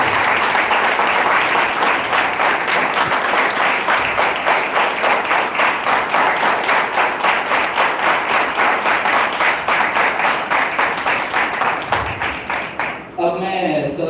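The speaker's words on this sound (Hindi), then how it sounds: "तो मैं चाहता हूँ एक बार उस चीज के लिए आप लोग जोरदार तालियां बजाएं।" Loud, sustained audience applause at an award ceremony, dense steady clapping for about thirteen seconds before fading out and giving way to a voice.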